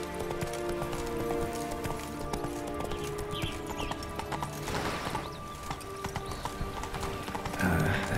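Horse hooves galloping in The Witcher 3 video game, a fast continuous clip-clop rhythm close by that lasts throughout, with a brief whinny and faint game ambience underneath.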